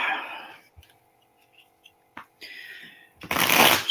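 A deck of cards is riffled in a short crisp burst, after a few quiet rustles and taps of the cards being handled.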